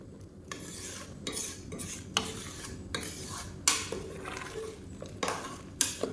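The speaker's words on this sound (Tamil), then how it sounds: "இப்போ வந்து நல்லா கலந்து விட்டுக்கலாம்" Mutton biryani being stirred in a pot with added water, a ladle scraping and knocking against the metal in repeated strokes with wet sloshing between, close and fairly loud with no voices.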